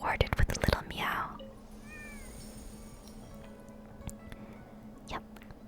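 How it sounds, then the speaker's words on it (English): A cat in the Genshin Impact video game lets out a short, soft meow after a burst of clicks and rustling, followed by quiet ambience, with whispered speech nearby. "And then we're rewarded with a little meow."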